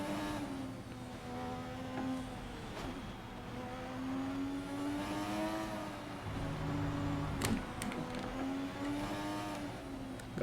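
A Formula 1 car engine in the racing game F1 2020, at the Austrian circuit, drones steadily at high revs, pitch rising and dipping through gear changes, with a few sharp clicks and knocks over it.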